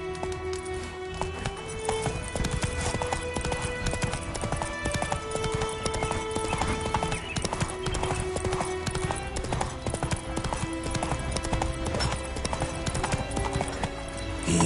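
Hooves of Roach, a horse galloping in The Witcher 3: Wild Hunt, pound in a fast, steady, loud rhythm of clip-clops over a continuous game soundtrack that carries sustained musical tones.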